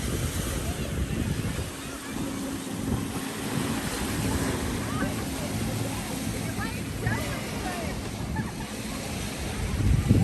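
Breezy-day beach surf with steady wind noise buffeting the microphone, waves washing continuously for the whole stretch with no talk over it.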